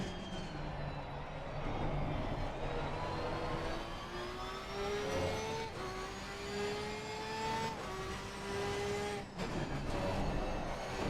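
Ferrari GT race car in Assetto Corsa Competizione, GT World Challenge setting, its engine revving steadily through gears with rising pitch sweeps and brief shift dips, loud and continuous.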